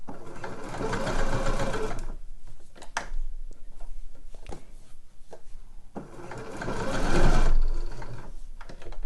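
A sewing machine runs in two sustained bursts while stitching a slipper sole onto fabric, its motor whirring loudly with a pause of quieter mechanical clicks and shuffling between runs.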